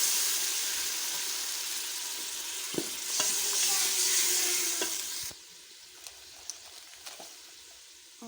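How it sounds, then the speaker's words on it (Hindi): Water splashes into a pan of frying onion, garlic, ginger and tomato masala seasoned with turmeric and chilli, setting off a loud, steady sizzle that drops sharply partway through, leaving a softer simmer with a few small clinks. "अब हम इसमें थोड़ा सा पानी डाल देते हैं।"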